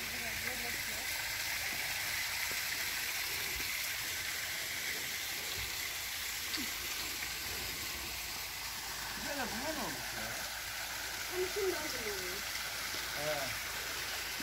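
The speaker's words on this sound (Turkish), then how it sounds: "ileride şelalemizin de sesi geliyor. Şırı şırı şelalemiz." Steady rushing of a mountain waterfall and flowing stream fills the air at a flower garden on Mitisin plateau in Osmaniye, with a voice talking over the constant wash of water.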